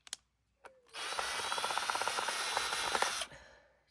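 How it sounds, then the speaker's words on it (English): A power drill spins up and drives a 3-inch fastener into place in a single steady burst lasting a couple of seconds, loud and close, with a few faint knocks just before it and no talk. "use the drill just to get it in place real quick"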